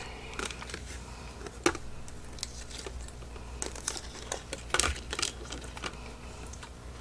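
A hand-cranked die-cutting machine rolls card stock and dies through, giving a steady run of crackling, crinkling clicks and small snaps at close range with no talking.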